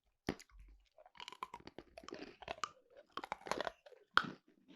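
Close-up crunching of big puffed snacks, a rapid irregular run of crisp bites and chews with brief pauses, quiet and intimate with no talk over it.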